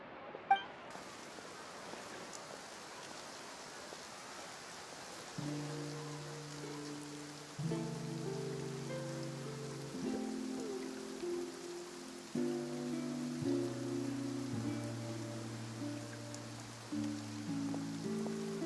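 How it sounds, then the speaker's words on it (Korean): Steady rain shower hiss in Fontaine in Genshin Impact, a constant soft wash of falling rain with gentle game music notes layered over it, no voices. "비가 오는 것 같네."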